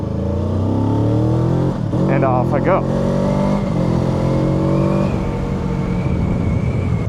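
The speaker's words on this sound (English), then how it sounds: "Then all of a sudden the engine comes on right there." Kawasaki Ninja 7 Hybrid motorcycle engine starting up mid-ride and accelerating, rising revs sweeping upward over steady road and wind noise, with someone speaking briefly over it.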